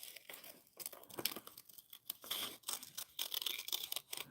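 Brown paper being cut out by hand for a handmade journal, with crisp, irregular snips and crinkling rustles of the paper close up, steady and busy without pause, no voices.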